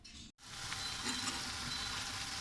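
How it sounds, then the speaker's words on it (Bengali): Spices frying in soybean oil with ground paste, salt, turmeric, mixed masala and chili powder: a dense, steady sizzle close by, broken at the very start by a short silent gap, then continuing evenly with faint stirring. "দিয়ে দিয়েছি সয়াবিন তেল, বাটা মিক্স, লবণ, হলুদ, মিক্স মশলা, মরিচ পাউডার, কষিয়ে নিচ্ছি।"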